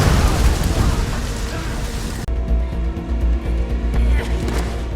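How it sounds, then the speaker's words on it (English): A powerful bomb blast inside a church, a loud roaring rumble with heavy low-end energy that cuts off abruptly, followed by a lower, rumbling aftermath with scattered crackles. "triggering a powerful explosion."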